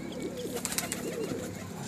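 Pigeons coo softly and intermittently nearby, low throaty calls over a steady background hum, with a faint flutter of wings.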